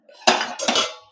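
A metal vessel holding nachni cake batter is set down onto a plate inside a dry pressure cooker, giving two quick close clanks of metal on metal that ring briefly and fade.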